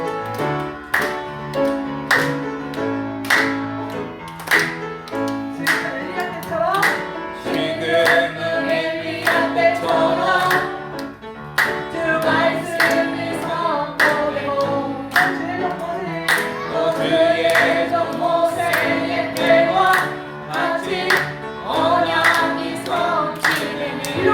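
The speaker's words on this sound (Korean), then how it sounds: "다 같이 크게 큰 소리로 손뼉 치면서 찬양 올리도록 하겠습니다" A church congregation claps in rhythm to a fast worship song at a Sunday afternoon service, with steady sharp claps over loud singing and instruments throughout.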